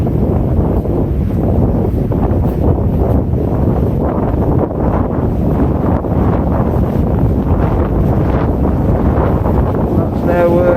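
Strong wind buffets the microphone outdoors at a hotel in Benidorm on Spain's Costa Blanca, a loud, continuous low rumble with gusting surges throughout.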